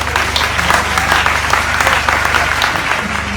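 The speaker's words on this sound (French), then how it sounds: "Est-ce qu'on peut applaudir pour ces parents?" An audience applauds the parents at an event, a dense, loud wash of clapping from many hands that holds steady throughout.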